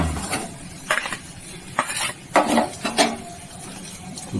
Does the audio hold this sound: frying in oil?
yes